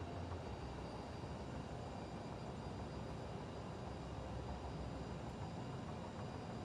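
Steady airliner jet engine drone from a flight simulator game on approach into LaGuardia, a constant broadband roar with a faint high whine, holding level throughout with no talk.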